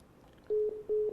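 Telephone tones sound after a call drops, a short run of clean, evenly spaced electronic beeps that switch on abruptly and pulse steadily at moderate volume, with no talking.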